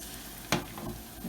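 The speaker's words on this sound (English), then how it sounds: "When you get that sizzle, then you can put in the salami." Salami sizzles in a frying pan with a steady hiss, broken by a sharp crackle partway through, close up and with no talking.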